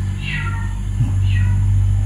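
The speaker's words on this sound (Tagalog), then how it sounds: "Parang pusa talaga eh. Yung busis niya." A cat meows twice in a rural night setting, two drawn-out high cries about a second apart, moderately near, over a steady low hum and background noise.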